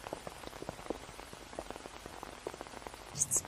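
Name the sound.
rain falling on an umbrella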